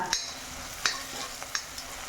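Onions fry softly in a pan for a drumstick-leaf and green gram thoran, a quiet sizzle broken by a few light scraping stir strokes.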